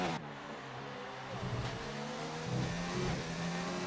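Race cars circulating on a circuit at the Mexico round, a continuous engine drone with shifting pitch as cars pass and accelerate, heard at a moderate distance without talk.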